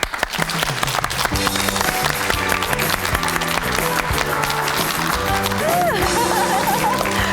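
A studio audience at a Korean daytime talk show claps steadily to welcome a surprise guest, with scattered chuckles and music playing underneath throughout.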